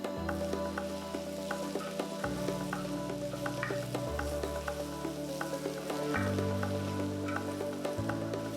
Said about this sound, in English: Next, I'm going to add the capsicum pieces.